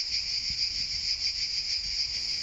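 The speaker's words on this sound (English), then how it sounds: "hear in the background is the sound of the cicadas. They never stop." Cicadas drone without a break in the background near a small bakery in Italy, a loud, steady high-pitched buzz that pulses slightly and carries on alone, with no talk.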